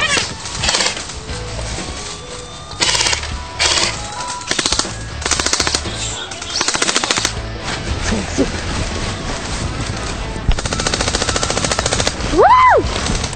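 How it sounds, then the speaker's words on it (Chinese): Airsoft BB guns fire in a jungle war game, with rapid bursts of clattering shots coming in waves from several directions, broken by short pauses and a rising whistle-like sweep near the end. "此起彼落的枪声让我心跳加速。 尽管都是 BB 弹的游戏枪"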